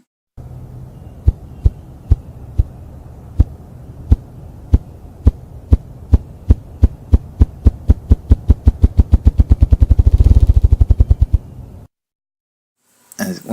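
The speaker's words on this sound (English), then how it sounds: "watch the birds flapping their wings making this sound" A bird drums by flapping its wings: deep, throbbing thumps start slow and widely spaced, then speed up into a fast rolling flutter before stopping abruptly, with a brief noise at the very end.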